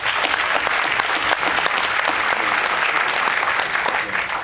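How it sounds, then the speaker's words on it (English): Theatre audience at a film Q&A applauding steadily, a dense, even wash of many hands clapping close and loud throughout with no pauses. "I'm going to applaud that"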